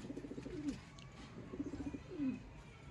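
Sialkoti pigeons coo faintly in repeated low, rolling phrases, three soft calls in a quiet loft setting.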